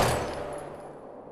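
A gunshot in the video game Life Is Strange: one loud broadband crack that decays over about a second, heard alone without talk.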